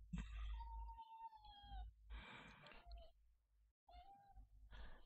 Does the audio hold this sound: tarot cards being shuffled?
no